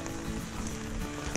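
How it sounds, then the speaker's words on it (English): Steady, fairly heavy rain falls on a trail in the Smoky Mountains, a dense continuous hiss of drops close by with no talking. "Rain's been pretty steady. This is about as heavy as it's been."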